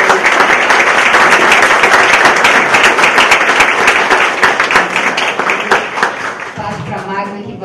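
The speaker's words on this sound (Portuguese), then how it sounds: "eu pediria aí uma salva de palmas para o" Sustained loud applause from an audience at the founding ceremony of an institute, dense clapping filling most of the span before thinning out as a voice starts talking near the end.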